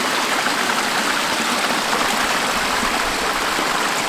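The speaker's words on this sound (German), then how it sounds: "Aber sie hat den Bach entdeckt." A mountain stream rushes along a hiking trail in the Allgäu Alps, a steady, close, broadband wash of flowing water with no voices.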